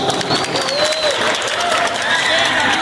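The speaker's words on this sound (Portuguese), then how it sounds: "Salva de palmas mais forte para a escola Prefeito Alexandre Montoril" Audience applause at a school project exhibition in Coari, Amazonas, honouring a robotics education project, steady dense clapping with some crowd noise and faint voices beneath.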